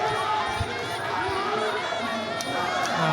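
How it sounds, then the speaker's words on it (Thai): At a Muay Thai fight, an arena crowd keeps up a steady roar of cheering and chatter, with scattered shouts rising from the continuous wash of voices. "โอ้เสียงเชียร์นี่ก็หึมไปหมดเลยนะครับ"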